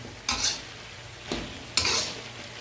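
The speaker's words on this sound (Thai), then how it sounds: "ผัดแป๊บเดียวก็สุกแล้ว" Broccoli being stir-fried in a pan, with a few short bursts of scraping and sizzling as it is tossed, each lasting about half a second, over a quiet low background.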